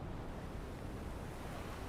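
Ocean waves in a Wuthering Waves video game cutscene, heard as a steady, dense wash of surf and wind-like noise with no breaks and no speech.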